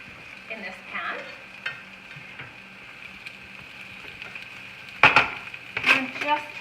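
Bread pieces fry in a pan with onion for a French onion strata, a soft steady sizzle with scattered stirring scrapes, ending in two louder bursts of crackle and spatula contact.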